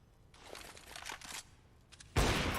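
Counter-Strike gunfire in a competitive match, with AWP sniper rifle shots punched through a wall, a scatter of muffled cracks followed by one loud sharp blast near the end.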